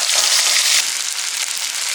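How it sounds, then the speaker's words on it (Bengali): Dry red chillies and cumin seeds sizzle steadily in hot mustard oil, a loud, close, continuous crackling hiss with no voices over it. "ফোড়নে দিচ্ছি শুকনো লঙ্কা, জিরে।"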